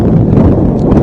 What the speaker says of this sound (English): it's windy every year on senior night